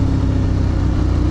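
A Ducati Streetfighter V2 848 motorcycle engine holds steady at around 6000 rpm, producing a loud, continuous, even drone with no talking over it.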